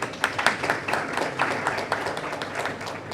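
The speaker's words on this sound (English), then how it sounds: "Round of applause, ladies and gentlemen." Audience applause at an automotive retail AI panel felicitation, distinct sharp hand claps ringing out in an uneven stream from a crowd, fairly close and lively throughout.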